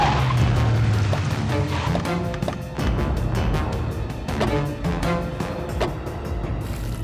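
A car brakes hard to a halt, tires squealing and skidding loudly against a background of music, with no voices.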